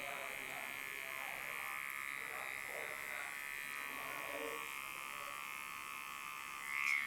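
Electric hair clipper cutting hair with its lever at the middle setting, giving a steady, close buzzing hum that runs without a break throughout.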